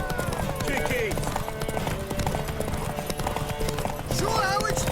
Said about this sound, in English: Want that horse, don't ya?